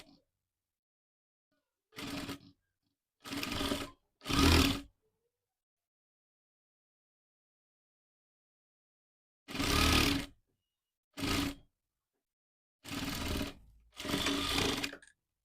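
A sewing machine stitching the side seam of a boat-neck, princess-cut blouse, running in seven short separate bursts of rapid whirring with silent pauses between, close and fairly loud, no talking.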